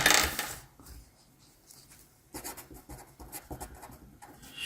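Pen writing out a maths solution, close scratchy strokes in short bursts with pauses between them, quiet and with no talk.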